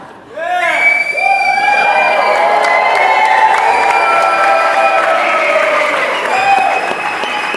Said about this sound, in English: So get all your cheering out now because you won't be allowed to do it during this forum.